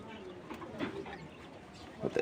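Quail, about thirty young birds, make short calls near and far, faint behind a person talking.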